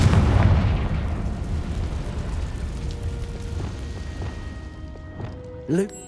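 A Confringo explosion spell goes off in the Hogwarts Legacy video game as a loud, near blast, then rumbling debris fades across several seconds and a brief sharp burst comes near the end.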